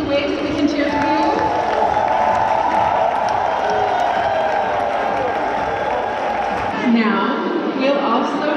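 A large crowd at a live stage event in Dortmund cheers and applauds for a standing group of attendees, a loud continuous roar of voices and clapping that fades near the end.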